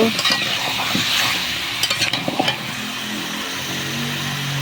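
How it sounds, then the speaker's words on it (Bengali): Pumpkin and tilapia fish curry sizzles and fries in a pan with spices while a utensil stirs it, with scraping clinks near the start and middle, steady and close. "দিয়ে এটা ভালোভাবে নাড়াচাড়া করে মশলার সাথে ভালো করে কষিয়ে নেব।"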